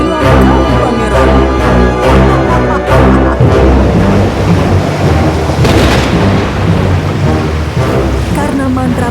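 Thunderstorm in a cartoon at sea, with booming thunder cracks, heavy rain and crashing waves threatening a prince's ship, loud and continuous with dense dramatic music underneath.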